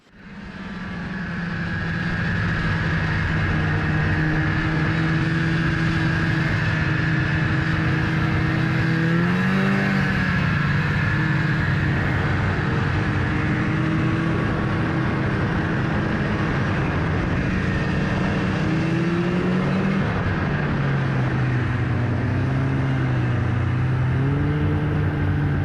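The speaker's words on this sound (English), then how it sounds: "what a day to go snowmobiling" Snowmobile engine carrying a rider across high mountain snow, a loud continuous droning roar with pitch rising and falling as the throttle changes, steady throughout with no voices.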